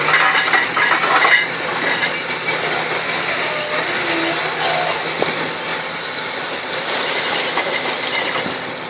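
A Caterpillar 748G3 log skidder works in a New Zealand logging operation, a steady, rumbling machinery drone running throughout with faint clanks, no talk.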